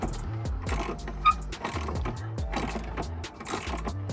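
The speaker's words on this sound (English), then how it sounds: "obviously take the bolt out" Undoing an old, original 1999 bolt on a Mazda MX5, with repeated ratcheting clicks and low mechanical creaks in a steady working rhythm, close up, plus a brief sharper knock partway through.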